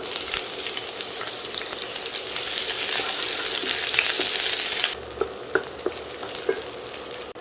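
Cinnamon pieces, a clove and sliced onion fry in hot oil with a loud, steady sizzle that drops to a softer crackle near the end, with occasional stirring.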